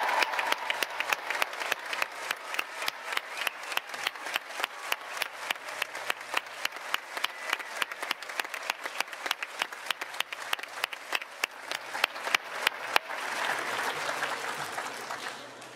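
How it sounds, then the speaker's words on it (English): A large crowd in a tent at a 2023 school graduation ceremony gives sustained applause, with steady, dense clapping that runs on for many seconds and swells slightly near the end. "Please give another large round of applause for our incredible graduating class of 2023."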